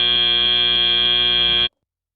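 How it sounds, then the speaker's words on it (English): A loud electronic buzzer ends a robotics competition match, a single steady tone held for under two seconds before stopping sharply, sounding alone. "before that buzzer sounds"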